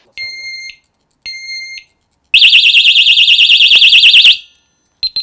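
A piercing 120-decibel motorcycle disc lock alarm: two short shrill beeps, then a loud warbling siren wail for about two seconds, ending with brief chirps.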